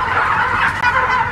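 A dense chorus of turkeys gobbling continuously, loud and close, with many birds calling over one another.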